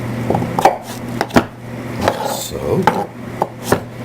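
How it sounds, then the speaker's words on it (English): Two zucchini being diced with a knife on a board: a run of sharp, irregular chopping knocks up close, about eight cuts, with a brief word spoken early on. "I'll be using 2 zucchini. I'm going to cut them into dices."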